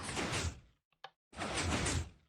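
A glitchy redstone-powered door in Minecraft shuts with a short mechanical clunk between stretches of loud, broadband game noise, a brief isolated sound in a gap of near silence.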